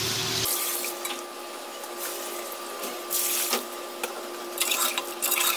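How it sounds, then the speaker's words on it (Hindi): Water poured from a tap or jug into a pot of beef trotters, a steady close splashing rush that swells louder in a few bursts toward the end. "पानी ऐड करने लगी,"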